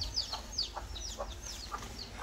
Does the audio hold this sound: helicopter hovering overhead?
no